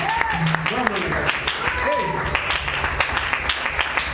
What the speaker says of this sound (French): Acclame ce Dieu.